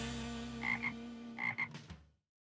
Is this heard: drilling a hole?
no